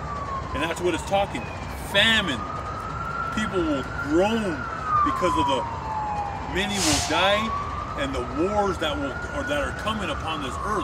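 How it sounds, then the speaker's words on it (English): An ambulance siren wails in repeated rising and falling sweeps as it passes at moderate distance, heard steadily beneath a man preaching loudly in the foreground. "Hey, you can hear an ambulance right now."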